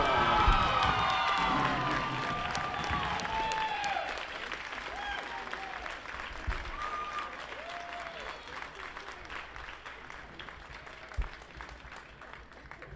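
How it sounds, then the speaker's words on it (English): Crowd at a high school boys basketball game in a gym applauds and cheers for the homecoming winter queen and court, loud sustained clapping with shouts, gradually thinning over about thirteen seconds. "Let's have a big round of applause again for our homecoming court."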